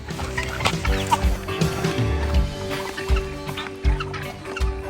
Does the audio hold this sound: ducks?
yes